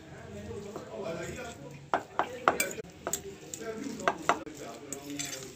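Sandwich filling seasoned with black pepper and salt is mixed in a bowl, irregular scraping and clinking strokes of a utensil, with a voice faintly in the background.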